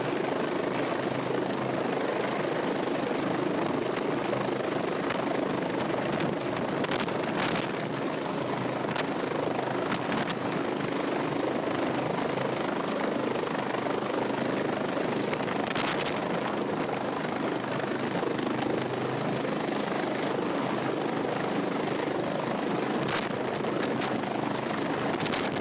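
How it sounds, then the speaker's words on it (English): A helicopter attempting to land on a yacht, its rotor chop and turbine whine droning steadily for about twenty-five seconds with wind buffeting the microphone and no voices. "Don't you just hate when your pilot isn't able to land your helicopter on your yacht?"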